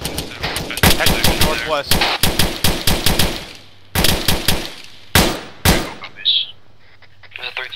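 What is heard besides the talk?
gunfire in the video game ARMA 3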